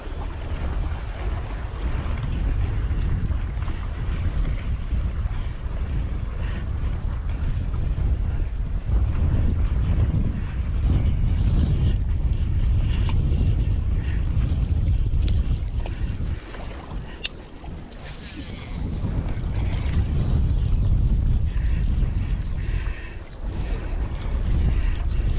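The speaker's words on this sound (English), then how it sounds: "Wind blowing at about 10 miles per hour out of the southwest." Steady southwest wind at about ten miles per hour buffets the microphone outdoors during autumn wade fishing for speckled trout, a continuous loud roar with brief lulls.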